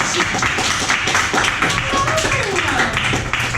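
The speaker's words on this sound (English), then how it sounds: "So, please give a big round of applause for Conductor Green Grapes." Audience applause at an improv comedy show at the Edinburgh Fringe, clapping with cheers and some voices mixed in, fairly loud and continuous.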